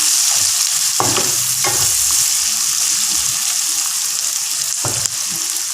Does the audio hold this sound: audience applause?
no